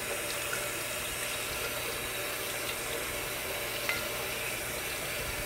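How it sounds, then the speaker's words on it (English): Steady cold water from a tap pours continuously over pasta shells in a sink to rinse them, an even hissing splash with no pauses or voices. "Run some cold water on them to rinse."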